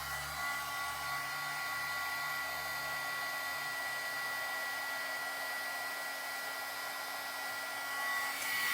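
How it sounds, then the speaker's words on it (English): A heat embossing tool blows hot air to melt embossing powder on a pink Christmas folio, giving a steady, close, continuous whirring hiss that holds even throughout with no voices. "so I'm gonna heat tool this"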